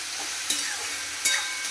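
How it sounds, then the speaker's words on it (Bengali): Food fries in a pan with a soft, constant sizzle and two brief stirring scrapes, heard close with no voices. "তো এখানে ভাজা হচ্ছে সব"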